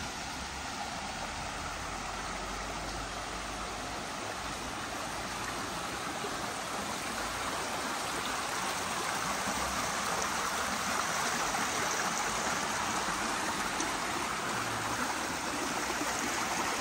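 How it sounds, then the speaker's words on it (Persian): A stream in the village of Talian, Iran, flowing into a big river, heard as a continuous broadband rush of running water, steady and fairly close, with no talk. "رسیدیم به یه جوب دیگه که میخوره به این رودخونه بزرگه"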